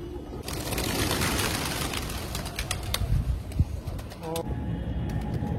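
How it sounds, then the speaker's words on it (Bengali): A flock of pigeons coos and flutters nearby with bursts of wing flapping. A few sharp clicks and rustles break in, and a person's voice is heard now and then. "দেখছো এক ঝাঁক পায়রা, এক ঝাঁক"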